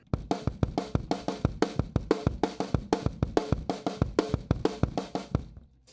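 A steady paradiddle drum groove of snare and kick strokes in a fast, even rhythm, played alone with no cymbals, close and dry.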